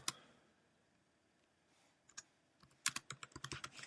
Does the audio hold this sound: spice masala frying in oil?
no